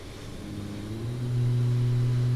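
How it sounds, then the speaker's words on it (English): A Boeing 737 MAX's number 1 engine spools up during start, a steady whine that rises in pitch and swells louder, heard from inside the aircraft cabin. "So waiting for engine number 1 with the motoring."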